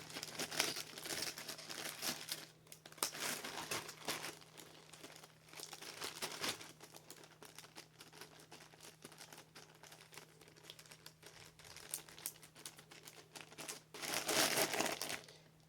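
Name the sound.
small plastic baggie being handled, crinkling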